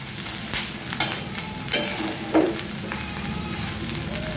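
Chopped onions frying in a pan for bread bhelpuri, a continuous soft sizzle with a few sharp scrapes and clinks of a spatula stirring, close by.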